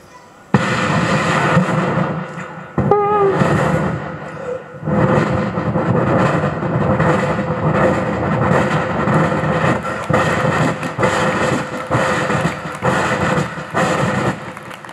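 A human voice imitates an approaching train, making loud, rhythmic, chugging bursts that begin abruptly and continue at an even pace to the end.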